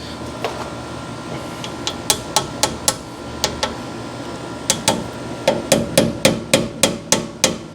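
Sharp metallic hammer strikes on the body of a 1966 Chevrolet Biscayne crew cab ring out in an uneven rhythm, some spaced apart, then a quicker steady run of blows toward the end.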